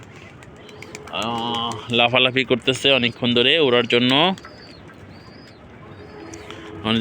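Pigeons coo in a home loft where a keeper releases more birds, their calls close and mixed with someone talking over them.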